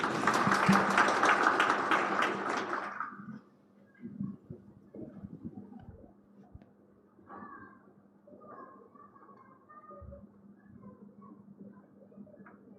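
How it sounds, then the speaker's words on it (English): A graduation ceremony audience claps loudly for about three seconds, then the applause stops abruptly, leaving quiet room noise with faint scattered sounds. "Let's give him a round of applause."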